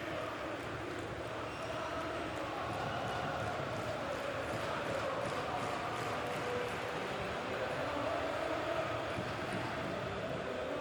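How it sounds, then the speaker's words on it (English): A dense, steady stadium crowd roar fills the clip, a continuous wash of massed voices without pause, from a football match in the video game FC 26. "just listen to this crowd"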